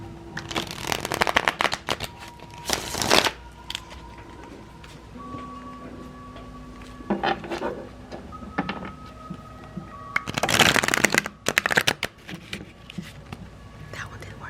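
A tarot card deck shuffled in several bursts of crisp riffling and slapping, with quieter gaps between, over soft background music.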